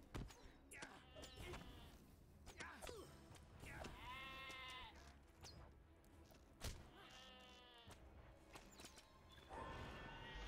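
Sheep bleat loudly and close by, with two long wavering calls and several shorter cries over soft scuffling movement.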